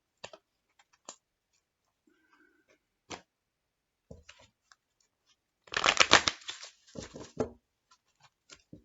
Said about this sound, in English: We're going to do 5 shuffles.